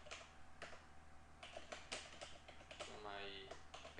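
Typing on a computer keyboard while building a Bootstrap landing page in the Pingendo editor: irregular clusters of light, close key clicks with brief pauses between bursts, and a faint steady hum underneath.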